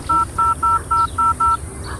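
Six evenly spaced touch-tone beeps from a phone being dialed, each short and clear, with a faint background hum underneath and no talking.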